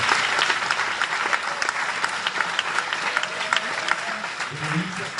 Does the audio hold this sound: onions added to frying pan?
no